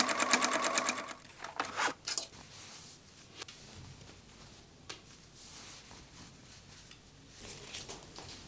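A sewing machine stitches the folded-under bottom hem of a skirt made from old pants, running in a fast, loud burst of rapid stitches at first, then a few short runs before trailing off into quiet handling noise.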